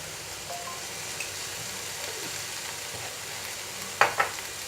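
Ivy gourd stir-fry with turmeric is mixed in a pan, giving a soft background sizzle with gentle stirring and a couple of sharper scraping knocks of the spatula near the end.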